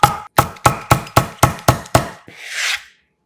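A knife slices green onion leaves diagonally on a cutting board, giving eight crisp, evenly spaced chops close up, then a soft brushing scrape as the pieces are swept aside.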